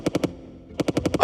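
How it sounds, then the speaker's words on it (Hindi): Sound-effect gunfire in a Hindi action audio drama: a loud, close burst of three rapid shots, a brief pause, then a longer run of about six quick shots in steady automatic rhythm. "विक्रम को देखते ही उन्होंने अपनी बंदूकें निकाली और उस पर गोलियां चलानी शुरू कर दी।"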